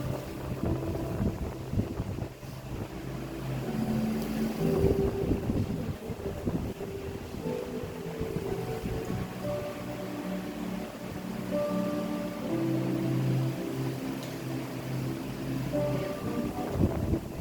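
An electric fan runs in an indoor setting where a woman is preaching, producing a steady low rushing wind noise against the microphone that lasts throughout.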